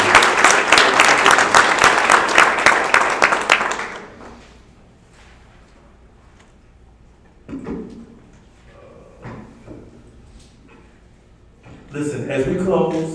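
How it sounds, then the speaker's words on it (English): Graduation ceremony audience claps, a loud, dense burst that lasts about four seconds and stops abruptly. After it come quiet room sounds, a few scattered knocks and bumps, and then voices talking. "Let's give all of them a hand clap, you guys."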